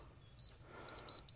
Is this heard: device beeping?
yes